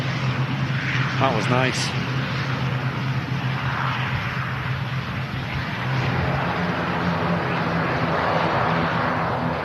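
Steady roar of Aer Lingus Airbus A330 jet engines, General Electric CF6 turbofans, at Manchester Airport, a constant loud rumble throughout, with a brief voice speaking over it.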